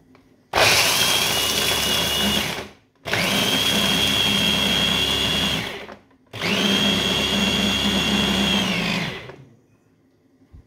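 A kitchen blender grinds walnuts in three long bursts of whirring motor noise, each lasting about two to three seconds and separated by short silences, loud and close.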